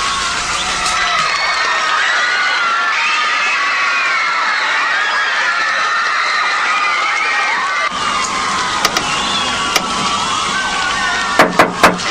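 A large crowd cheers and shouts continuously at a concert-like event, loud and sustained throughout, with high children's or fans' screams rising over the roar and a few sharp bursts near the end.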